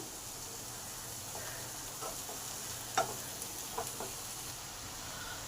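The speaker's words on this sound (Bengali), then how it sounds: "এবারে ঝিঙেগুলোকে আলুর সাথে একটু মিশিয়ে নিলাম" Chopped ridge gourd and potatoes are stirred together in a pan under a soft, steady sizzle, with a few light scraping clicks from the spatula.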